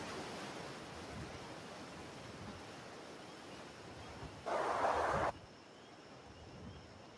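A video game waterfall rushes as a continuous broadband roar, with a louder burst for about a second near the end, then settling back.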